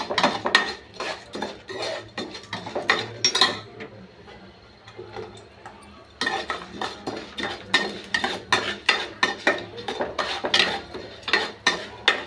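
Urad, moong and toor dal frying together in a pan while being stirred, giving repeated close scraping and clinking strokes of a spoon against metal in a steady rhythm, with a short quieter pause midway.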